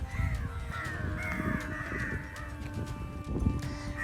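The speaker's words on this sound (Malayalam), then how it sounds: "ഇപ്പോൾ ഒരുപാട് കാക്കകളും അതുപോലെ തന്നെ കൊച്ചകളെല്ലാം വന്നിട്ടുണ്ട് കേട്ടോ" Several crows caw repeatedly nearby, harsh calls overlapping outdoors at a hill temple in Palakkad, Kerala, with a low background hum.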